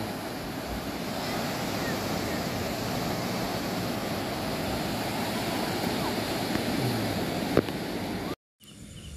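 Large ocean waves at a white-sand beach on an overcast day, a steady loud roar of surf with wind buffeting the microphone, cutting out briefly near the end.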